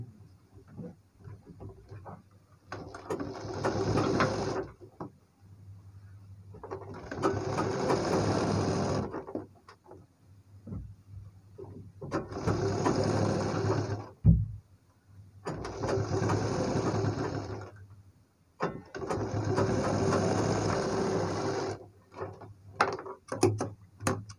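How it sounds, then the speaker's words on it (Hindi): A sewing machine stitches piping on a designer blouse in five separate bursts of steady, close mechanical whirring, each several seconds long, divided by quiet pauses filled with small handling clicks and one sharp knock. "पलटने के बाद पाइपिंग की जड़ में सिलाई लगा लेंगे"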